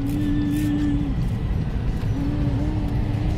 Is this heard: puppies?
no